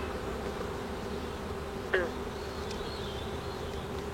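Honey bees hum around frames lifted from a hive box, a soft continuous buzz with a brief brighter burst from a single bee passing close, no talk.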